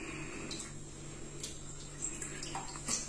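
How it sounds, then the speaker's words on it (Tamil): Chicken pieces being washed in turmeric water for biryani, with faint splashing and dripping of water in a basin, soft and close, in short irregular bursts without talk. "மஞ்சத்தூள் எல்லாம் போட்டு கழுவிட்டு இருக்கேன்"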